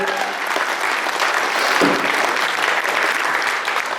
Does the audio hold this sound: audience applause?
yes